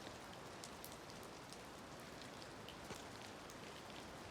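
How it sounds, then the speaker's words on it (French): Rain falls steadily in Fontainebleau, a dense, even hiss of drops on surfaces with occasional sharper nearby drips, continuous and with no voices. "cette vidéo de pluie à Fontainebleau"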